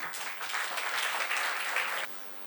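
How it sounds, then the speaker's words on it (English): An audience applauds to welcome Mr. Akihisa Mukai, a Japanese delegate, to the stage at an event in Kolhapur, India. The dense, steady clapping lasts about two seconds and then cuts off abruptly, leaving quieter room tone. "A big round of applause for him."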